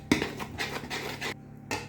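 Brioche dough ingredients stirred in a bowl, giving a few close scraping and clinking strokes of a utensil against the bowl in an uneven rhythm, with a brief pause near the end.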